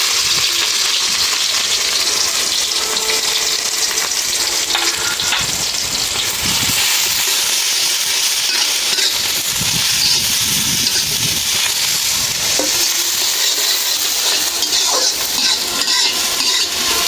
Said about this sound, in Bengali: তেলটা গরম হয়ে গেছে, দিয়ে দিলাম পেঁয়াজ।